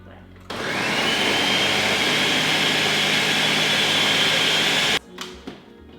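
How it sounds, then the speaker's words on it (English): A kitchen blender runs steadily at high power for about four and a half seconds while a smoothie is made, a loud continuous whir that cuts off abruptly, followed by a few faint clicks. "Always remember to line up the arrows in your blender."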